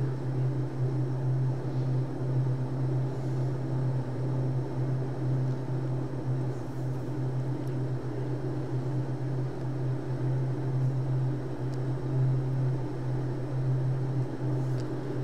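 A small airplane climbs in flight, its engine producing a steady, unbroken drone with a strong low hum and broadband roar throughout, close and continuous with no talking.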